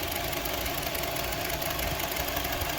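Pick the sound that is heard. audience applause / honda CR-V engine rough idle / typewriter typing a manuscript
honda CR-V engine rough idle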